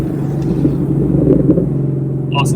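A Ford Mustang with a Borla exhaust burbles loud and close, giving a deep, steady low rumble with slight pulsing as it comes off the throttle.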